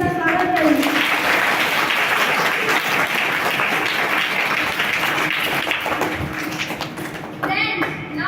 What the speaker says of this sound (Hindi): आप सभी से निवेदन है कि जोरदार तालियों के साथ अध्यक्ष जी का स्वागत करें